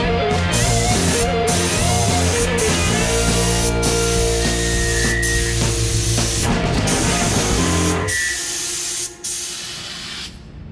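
A SATA spray gun lays a heavier final coat of epoxy primer, giving a loud, steady close-up hiss that runs for several seconds before easing off, with no talking.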